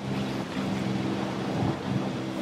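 A thunderstorm rumbles in the video game Forza Horizon 5, low rolling thunder under steady rain and wind, loud and continuous, with no speech.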